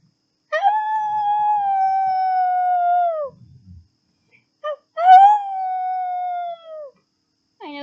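A human voice imitates a wolf-like dog howl, two long sustained wailing tones with a falling end, separated by a short pause and a brief breathy sound, loud and close.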